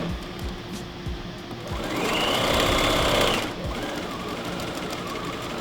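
A sewing machine stitches a fabric face mask, its motor whirring in a steady close buzz that rises in pitch and loudness for a fast burst in the middle before easing back to a slower run.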